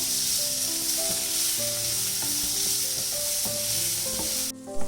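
Corn and cheese samosa filling sizzles steadily in a pan for several seconds, with stirring scrapes and clinks throughout; the sizzle cuts off abruptly near the end.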